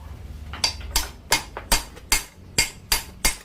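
A misshapen motorcycle part cover is hammered back into shape, eight or nine sharp metallic strikes landing at a steady, close rhythm with brief gaps between them.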